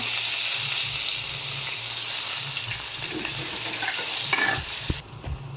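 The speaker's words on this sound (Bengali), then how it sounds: "গরম হয়ে গেছে, দিয়ে দিচ্ছি পেঁয়াজ বাটা" Onion paste hits hot oil in a pan that has just fried fish, a loud continuous sizzle and hiss with stirring scrapes, dropping off sharply near the end.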